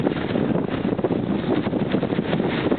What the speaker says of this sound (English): what do you think the wind gust is right now?